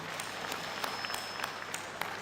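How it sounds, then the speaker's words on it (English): Audience applause for clergy at a large political delegates' gathering at Kasarani, a steady wash of clapping from a crowd with a few sharper claps standing out. "We need to give them a big clap."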